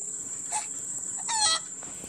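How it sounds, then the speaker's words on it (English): Video-game chicken sounds: two short clucking calls, the second longer and brighter, over a steady high-pitched game tone and quiet background. "Is that another chicken?"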